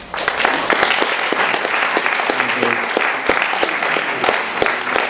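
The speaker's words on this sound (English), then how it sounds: "please could you give a round of applause to Michael Maynard" An audience at a live funding event bursts into sustained applause, a dense, steady wash of clapping hands that holds evenly at full level throughout, with no voice over it.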